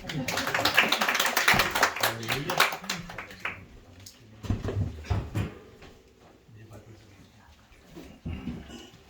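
An audience at a church women's fellowship prayer meeting claps loudly for a few seconds to welcome a speaker; the applause fades out and a person then talks over sparse, quieter claps.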